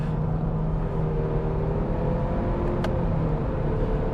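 Engine of a 2021 Honda Civic Sport Hatchback driving steadily, a low continuous drone with a slight rise as it is downshifted with the paddle shifters, heard from inside the cabin with no talk.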